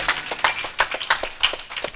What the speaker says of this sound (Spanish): Dele fuerte ese aplauso a Jesucristo.